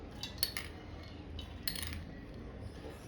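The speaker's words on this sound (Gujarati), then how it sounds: "તો અહીંયા હું મોટી ત્રણ ચમચી એડ કરું છું" A spoon clinks against a bowl as cashew pieces are added for kaju mango kulfi, giving a few quiet, close metallic taps in a near-silent kitchen.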